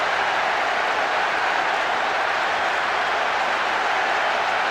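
A stadium crowd in the PES 6 football video game sends up a steady, loud wash of cheering and applause-like noise after a goal, continuous and unbroken.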